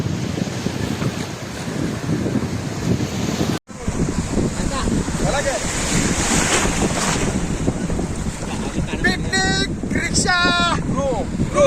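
Sea waves wash onto the Alibag shore in a rough, continuous roar under strong wind buffeting, while people talk close by.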